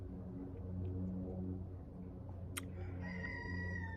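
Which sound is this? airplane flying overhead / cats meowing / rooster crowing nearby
rooster crowing nearby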